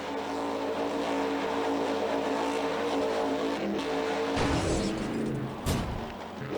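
A Monster Jam video game monster truck drives in circles, its engine droning and revving steadily throughout, then crunching impacts and a sharp clatter of breaking parts near the end, loud and close without talk.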